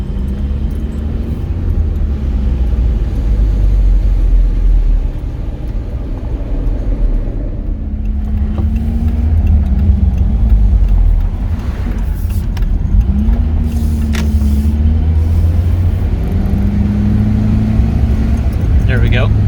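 A 1986 Honda Civic CRX HF engine runs steadily while driving, a low continuous drone with road noise and a faint rising whine in places, while someone talks over it.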